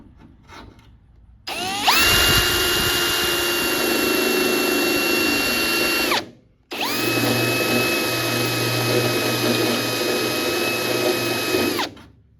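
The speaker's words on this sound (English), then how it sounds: "I'll start drilling some of these out" A power drill whines steadily at high pitch, drilling out spot welds in the metal cab of a 79 series Toyota Landcruiser, in two long runs separated by a brief pause.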